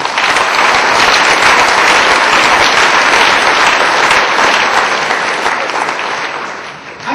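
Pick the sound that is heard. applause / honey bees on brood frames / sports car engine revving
applause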